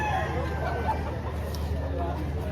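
Chickens cluck and a rooster calls amid the murmur of a busy poultry market in Lipa, Batangas, with people talking in the background and a low steady hum beneath.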